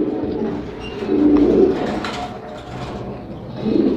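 Domestic pigeons, Spanish pouters and homers, coo in low rolling murmurs while being handled, a close, continuous throaty burble swelling a few times with no speech over it.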